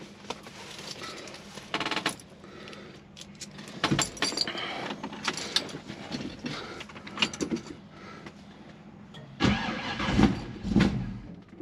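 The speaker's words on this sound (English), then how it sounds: "We're going to do a cold start today on my 66 GT." A 1966 Ford Mustang GT gets a cold start: keys jangle, the starter cranks in bursts, and the engine catches near the end with a loud rising roar.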